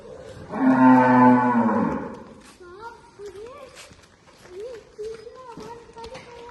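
Desi cows such as Gir, Sahiwal, Hariyanvi and Nagori moo loudly on an organic dairy farm, one long deep low first, then several shorter, fainter calls from other cattle in the background.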